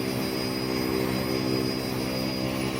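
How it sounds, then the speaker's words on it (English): A propeller aircraft engine runs steadily in Microsoft Flight Simulator 2024, a loud continuous drone with strong harmonic tones, no voices. "I hear an engine."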